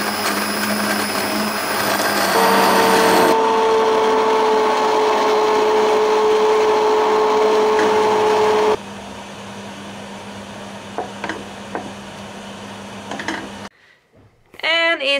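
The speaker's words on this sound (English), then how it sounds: "The stick blender." A loud, steady whirring motor of a stick blender puréeing thick soup runs for several seconds, shifting pitch, then stops, followed by quieter kitchen clatter.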